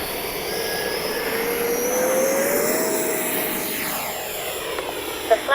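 An E-flite 70mm Viper RC electric ducted-fan jet whooshes past in flight, a loud rushing whine that swells and then fades with a slight pitch shift.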